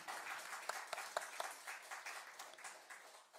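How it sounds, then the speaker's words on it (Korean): Church audience applauding at a self-reliance spiritual education talk, a quiet, thin patter of hands with a few sharper claps standing out, fading toward the end. "우리도 수준 높게 박수 한번 올려주시죠"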